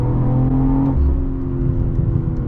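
A 2023 BMW M340i engine revs up with a rising whir as it accelerates hard, heard loud and close from inside the car.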